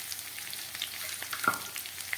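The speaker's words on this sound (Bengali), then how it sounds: "আলু আর পেঁয়াজটাকে খুব ভালো করে ভাজা করে নিলাম" Potatoes and onions fry in a pan, giving a soft, steady sizzle with faint crackles and one brief stirring clink, no voices.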